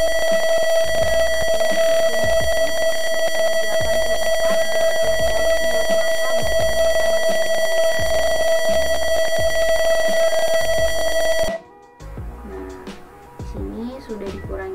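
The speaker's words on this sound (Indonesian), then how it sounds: "kalau tadi saya geser ke lebih dari 50 suhunya, maka buzzernya ini akan berbunyi." An electronic buzzer on a temperature alarm, triggered once the reading passes 50 degrees, holds a loud, steady high-pitched tone for about eleven seconds, then cuts off abruptly, leaving faint clatter behind.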